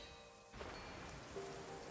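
Rain downpour in the Genshin Impact video game, a steady wash of falling rain that swells after a soft start, with a faint tonal game sound partway through and no talk.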